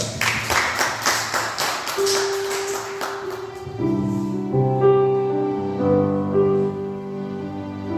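Church congregation at a Sunday service applauding, with several seconds of loose clapping that gives way to sustained organ or keyboard tones as music begins.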